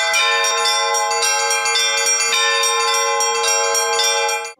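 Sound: church bells ringing at Orthodox festival in Sochi

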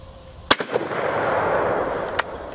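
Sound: No1Mk3 rifle shot fired at the range

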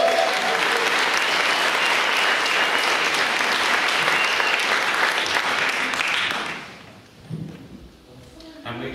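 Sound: round of applause for Davey

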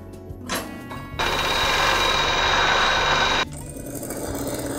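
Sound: overlock sewing machine stitching seams

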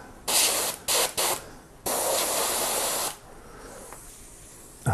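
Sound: Badger airbrush spraying Badger cleaner

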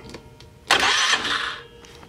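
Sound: Polaris Sportsman 500 ATV engine starting with key

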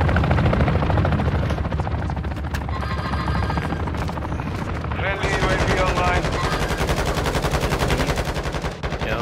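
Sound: gunfire in a video game

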